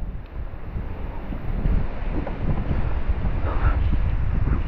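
Strong wind in the Sierra Madre and Cordillera mountains buffets the microphone in a continuous low roar, gusting louder partway through, with no rain and no voices over it.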